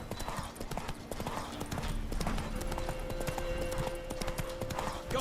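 Roach the horse in The Witcher 3 on PS4, hooves clip-clopping at a steady fast rhythm, up close under an ongoing background score, with a voice speaking briefly.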